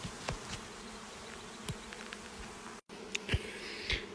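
Honeybees buzz around a backyard homestead hive outdoors, a steady faint hum with a few louder passes as individual bees fly close to the listener.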